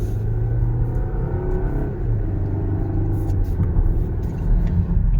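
A 2026 Volvo XC60 T8 AWD Ultra plug-in hybrid eases to a complete stop, its low, steady drivetrain rumble settling into a softer hum with no voices over it.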